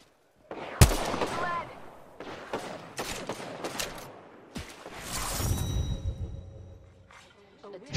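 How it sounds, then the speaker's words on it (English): Sharp gunfire cracks in Apex Legends, with scattered bursts and rapid shots, whooshes and impacts across a hectic firefight, while a player talks intermittently over the shooting. "Shooting. Getting shot at."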